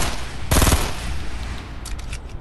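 Gunfire in the video game Fortnite: a short, loud burst of rapid shots lasting about a quarter second, standing out over a steady game background, followed later by a few faint sharp ticks.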